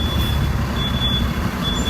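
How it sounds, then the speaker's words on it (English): Truck backing up nearby with a steady, thin reversing beep tone held over a loud low engine rumble, continuous through the short stretch. "Oh yeah, the truck backing up is"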